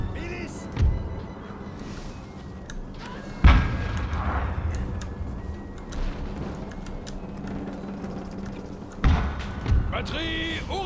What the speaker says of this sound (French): Canon de 6 livres, paré à tirer!